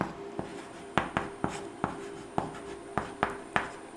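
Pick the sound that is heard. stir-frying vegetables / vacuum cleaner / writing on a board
writing on a board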